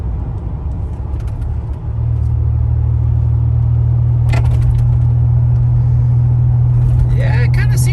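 A turbo Buick Regal's engine drones steadily from inside the car while driving, a low, constant hum that settles in after a brief shift, with a few faint clicks and rattles over it.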